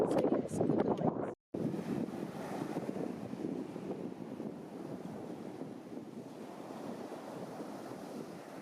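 Wind blows hard at Covehithe Beach, a steady broadband rush with possible surf underneath. It breaks off briefly near the start, then continues unbroken and fairly loud.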